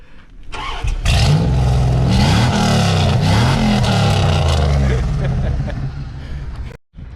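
An old Ram truck's engine roars at close range, revving hard and loud for several seconds with rising and falling pitch before dropping off abruptly near the end.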